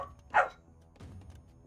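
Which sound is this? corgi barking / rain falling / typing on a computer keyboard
corgi barking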